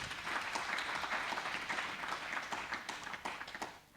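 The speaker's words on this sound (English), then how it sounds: "Give her a round of applause." An audience at a county investment learning event applauds a newly welcomed speaker, a full steady round of clapping that holds for several seconds and then tapers off at the end.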